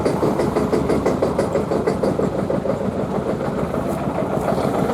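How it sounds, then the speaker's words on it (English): Farm tractors pull away from a classic car show in Mühlacker, their engines giving a loud, close, steady chugging rumble with a rapid, even pulse that fills the whole stretch. "Now some farming tractors are leaving."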